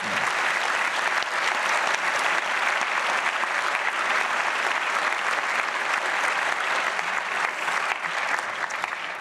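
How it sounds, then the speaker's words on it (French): Warm audience applause at an academic opening ceremony in a hall, greeting Philippe Busquin; dense, steady clapping from many hands fills the room for the whole stretch, loud and continuous without a break. "Je vous propose de l'applaudir chaleureusement."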